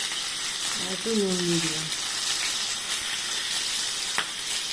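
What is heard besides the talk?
pointed gourd (potol) frying in oil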